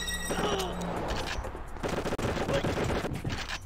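Dense automatic gunfire in the video game VIP, sustained bursts rattling loudly throughout with a brief gap, with someone talking faintly underneath.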